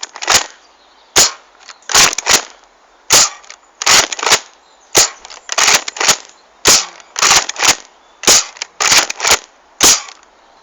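An Alpha Trooper airsoft gun fires single shots, loud sharp cracks repeated about a dozen times at irregular intervals, close and with no talk.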